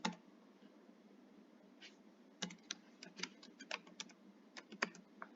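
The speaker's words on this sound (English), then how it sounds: "after it I will type my password." Password being typed on a computer keyboard, a quiet pause followed by a scattered run of sharp individual key clicks at an uneven rhythm, close and faint with no talk.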